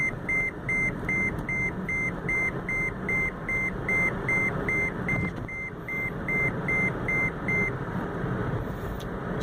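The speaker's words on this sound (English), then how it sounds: "It beeps 8 times slowly and 50 times fast, and then after the 50 times it's done." An electronic device beeps inside a taxi, a long run of evenly spaced, moderately loud tones over a constant engine and road hum.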